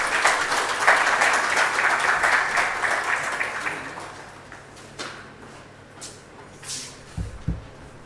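An audience at a college ceremony claps for the Provost of the College of Health Sciences as he comes to the stage. The clapping is dense at first, fades away after about four seconds, and a few scattered knocks follow.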